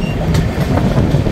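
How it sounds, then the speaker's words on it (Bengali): The Kanchankanya Express pulls out of Hamiltonganj halt, heard from inside the coach as a steady, loud, close rumble of wheels on rail with faint rhythmic knocks. "আমাদের ট্রেনের প্রথম হল্ট হ্যামিল্টনগঞ্জ ছেড়ে বেরোলো"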